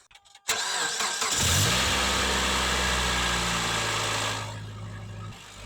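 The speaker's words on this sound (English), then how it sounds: "let's start the car" A car engine cranks with a few rapid clicks and a whir, fires up with a loud surge, then settles into a steady, rumbling idle that eases slightly toward the end.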